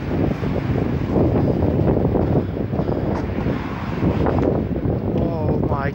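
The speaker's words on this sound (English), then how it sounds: "it's still very windy" Strong wind roaring steadily against the microphone after rain, beside floodwater in Rainbow Siddal, loud and continuous with slight gusts.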